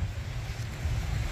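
Sea waves roll and crash onto the beach at Nha Trang, a steady deep wash of surf mixed with wind buffeting the microphone, loud and continuous.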